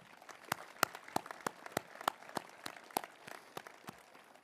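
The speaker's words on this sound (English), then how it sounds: "Give yourselves a round of applause." At a high school graduation ceremony in 2024, the audience applauds with a scattered patter of claps and a few sharp, distinct hand strikes standing out in a moderately distant room.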